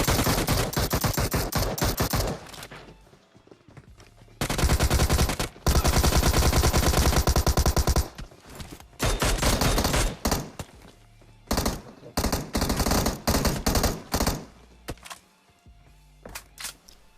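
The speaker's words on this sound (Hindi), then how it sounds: "और इसी घर के छत से कोई टोमी चला रहा है।" Tommy gun fire comes from a rooftop in the PUBG Mobile video game, loud rapid automatic bursts broken by short pauses, then scattered shorter volleys toward the end.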